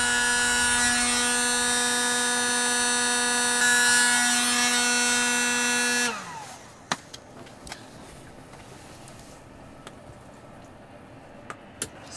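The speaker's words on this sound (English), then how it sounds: "About time for a new heat gun." Handheld electric heat gun blowing to warm a vinyl tube on a leaky Hot Springs Grandee hot tub, a steady loud whine and airflow hum that cuts off after about six seconds, leaving quiet handling clicks and taps.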